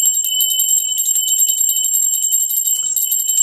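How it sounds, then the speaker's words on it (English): Steady, rapid high-pitched ringing of a small bell, continuous and loud for the whole stretch, with bright metallic overtones and no voices. "We're going to ring the bell."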